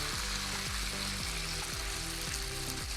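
Tomato and onion masala frying with chicken in a pan, giving a steady, broad hiss of sizzling oil throughout, with a low repeating hum running underneath.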